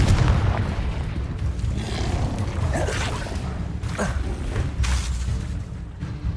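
In Hogwarts Legacy, a Confringo fire spell bursts in a deep rumbling boom, followed by whooshes and crackling impacts amid ongoing low, noisy game combat ambience.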